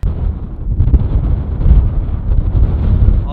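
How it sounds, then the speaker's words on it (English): Strong, freezing wind buffeting a microphone outdoors during a bikepacking trip in the Badja, a loud, low, rumbling roar that surges and gusts continuously without pause, no voices. "wait for that wind to stop"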